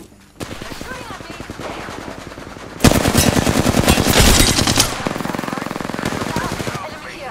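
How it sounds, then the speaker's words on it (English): Rapid automatic gunfire in an Apex Legends battle, a dense fusillade that surges loud mid-clip and keeps rattling steadily after, with continuous bursts and no pauses. "They're shooting at me."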